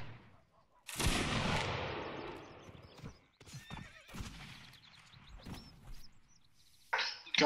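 Musket volley at a 201st Waterloo anniversary reenactment: one loud, close blast about a second in, rolling away in a long decay, then scattered movement and another sharp burst near the end.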